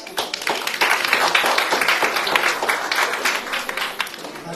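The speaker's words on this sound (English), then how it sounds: "Give him a round of applause." An audience at a cultural event gives a round of applause, sustained dense clapping that holds steady for several seconds.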